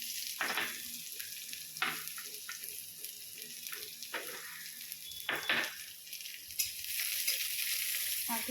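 Onion, garlic and a dried red chili frying in oil with panch phoron, a steady close sizzle broken by several sharp stirring scrapes and clinks, with no talk.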